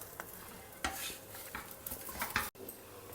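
Pesarattu frying in oil in a pan just after being flipped, a soft, steady sizzle with light scraping and a few clinks of a utensil against the pan, fairly quiet and close.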